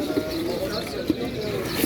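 Soft tumbler pigeon cooing mixed with people talking nearby at a bird market in Istanbul, a low murmuring call under the voices.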